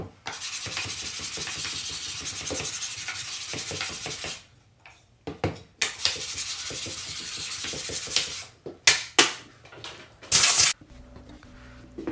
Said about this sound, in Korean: 아주 고운 사포로 전체적으로 마지막 샌딩 작업을 합니다.